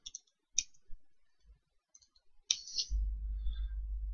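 Computer mouse clicks during a screencast, a few crisp isolated clicks in a quiet room, followed by a low rumbling hum near the end.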